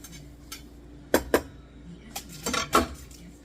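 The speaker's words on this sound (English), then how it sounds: "And with this garlic, I'm gonna have to cut it in half." A knife cuts garlic in half on a board during kitchen meal prep, producing a few sharp clacks and knocks of blade and utensils, close and quiet with short gaps between.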